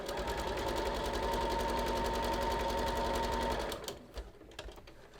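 A home sewing machine stitches a second row along fabric edges for a dress form cover, a fast, even mechanical whirr that runs steadily for several seconds, then stops, leaving a few soft clicks and handling noises.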